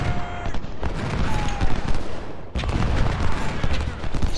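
Musket volleys and artillery fire on a Civil War battlefield in the strategy game Ultimate General: Civil War, dense overlapping crackling fusillades with deep booms, loud and continuous with a brief dip midway.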